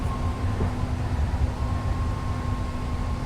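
Interior of a new three-door Blue Line train car bound for Dublin/Pleasanton on the San Francisco Bay Area rail line, a steady low rumble and hiss of running with a faint constant hum, no voices.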